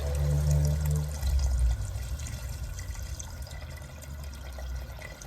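Water pours steadily into a pot of Indian-style beef and potato curry, a full gushing stream for about two seconds before easing into a softer, continuing trickle.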